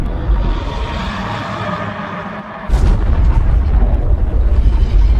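A huge nuclear weapon explosion rendered as a deep, loud rumbling roar that drops briefly, then surges back with a heavier booming blast that keeps rolling without letup.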